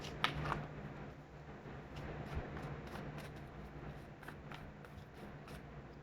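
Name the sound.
shuffling tarot cards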